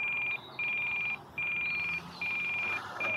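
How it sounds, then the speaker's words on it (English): Low-battery alarm from the ESC of an upgraded E-Flite Cherokee RC airplane: a piercing high-pitched beep repeating in long pulses with short gaps, fairly loud over faint background noise. "the EEC alarm is actually warning me that the battery is empty"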